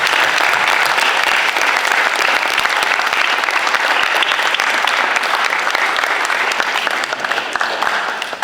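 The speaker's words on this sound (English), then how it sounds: "Let's give them a round of applause." An audience at a secondary school's final assembly of the year gives a sustained round of applause, dense and loud throughout before easing slightly at the end.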